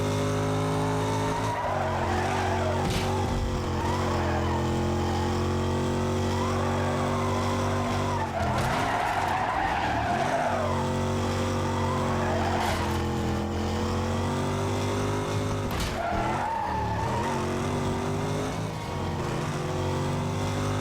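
A race car in Need for Speed Carbon roars through corners with a sustained loud engine drone, rising and falling revs and repeated tire squeals and skids, with no voices over it.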